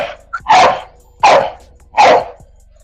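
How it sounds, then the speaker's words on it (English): A dog barking close by at an outdoor cookout, three loud evenly spaced barks with a small yip before the first. "That's her barking."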